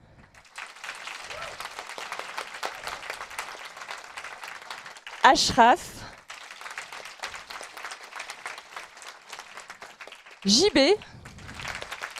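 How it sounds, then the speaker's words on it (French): At a round-table event on interculturality, an audience claps in a steady wash of applause while a voice announces names, with two short louder bursts of handling noise breaking in. "Vous pouvez applaudir Malamine."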